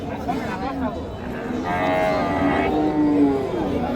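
At a cattle market, a cow lets out a drawn-out moo lasting about a second, set against a steady bed of crowd chatter and people talking nearby.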